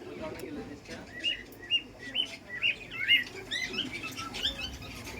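Pigeons at a pigeon shop flutter and chirp close by, with repeated wing-flaps and short calls in quick succession, a low murmur of voices in the background.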